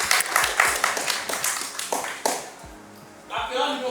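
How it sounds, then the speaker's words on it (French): Audience claps for a departing participant at a speed-dating event, with scattered bursts of hand claps and taps rising and fading in waves over a noisy room, with talk in the background. "Applaudissez pour elle, s'il vous plaît."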